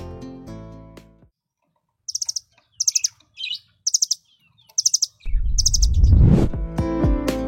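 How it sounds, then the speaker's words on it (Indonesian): A chestnut-backed nuthatch (munguk loreng) of Sumatra, Java and the Malay Peninsula sings: short clusters of thin, high, clear notes repeated in bursts with pauses, while other birdsong and a louder rising call fill the background. "Munguk loreng, atau yang sering kita sebut dengan rambatan loreng maupun rambatan Doraemon"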